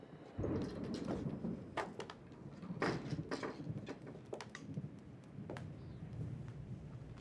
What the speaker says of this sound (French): Et là, ben, c'est le tonnerre.